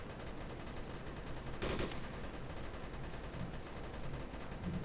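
Gunfire in DayZ Origins: a steady, rapid stream of automatic shots rattles on, fairly faint and distant-sounding, with one louder burst near the middle.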